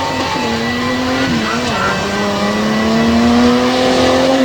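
Tough truck racing engine at a North vs South event in Front Royal, revving hard and steady with a rising, whining tone over crowd noise, loud and continuous throughout.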